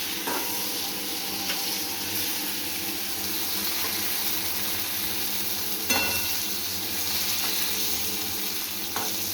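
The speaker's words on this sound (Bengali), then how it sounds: "ভাজে দিই।" Fried snacks sizzle steadily in a pan, a dense continuous hiss with occasional clinks of stirring, close and fairly loud with no talking.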